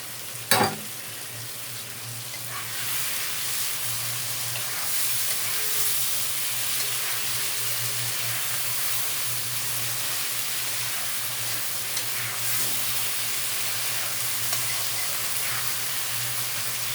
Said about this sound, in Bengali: এখন এর মধ্যে আমি ঢেলে দেবো পেঁয়াজ রসুন আদা